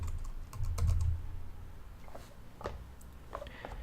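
Keys clack on a computer keyboard as text is entered into a circuit simulation program. The taps come in a quick close burst, then sparser light clicks follow over a faint room hiss.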